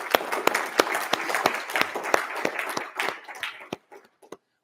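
An audience at Ogden College's 60th anniversary celebration claps steadily in a dense wash of applause with a few sharper cheers, fading out into scattered final claps.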